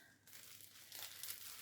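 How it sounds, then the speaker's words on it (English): Plastic packaging around a set of seven 10-gram mini skeins of sock yarn crinkles and crackles up close, quieter at first and then louder and denser through the second half, with no talking. "sorry for the crinkling."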